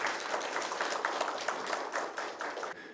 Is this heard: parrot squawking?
no